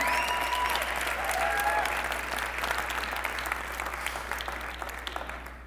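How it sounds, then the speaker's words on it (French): A church congregation applauds its team with sustained, dense clapping that fills the room steadily and tapers slightly toward the end. "ça mérite encore une main d'applaudissement pour votre équipe de feu"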